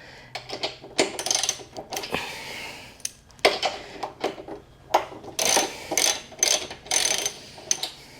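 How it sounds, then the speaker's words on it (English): A ratchet wrench with a 17 socket loosens the top bolts on a Suzuki VL250 motorcycle, giving close, loud bursts of rapid clicking separated by short pauses, along with a few metallic knocks. "Just going to use a 17 to take the top bolts out."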